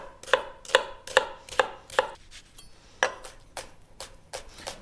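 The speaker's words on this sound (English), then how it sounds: "we're gonna have to chop the onion." A knife chops an onion with about ten sharp, close-up knocks, quick and evenly spaced at first, then slower and more irregular, with no talking.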